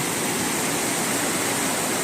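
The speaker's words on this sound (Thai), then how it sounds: "น้ำตกครับ" A forest waterfall, a loud, steady broadband rush of falling water heard up close with no other sounds.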